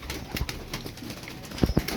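Tumbler pigeons coo in a small group at close range, soft low throaty calls with a couple of louder bursts near the end and faint rustling between them.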